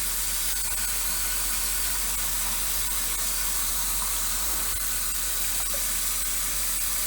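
Running water pours steadily, rinsing watercolor-pencil weathering off a styrene model railroad piece, a continuous hissing splash that stays even throughout with no talk.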